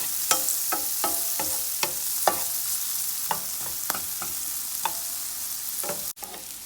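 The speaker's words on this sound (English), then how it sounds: "I'm gonna fry this up a little." Onions frying in a pan, a steady soft sizzle with light stirring scrapes and clicks at irregular intervals, close and alone.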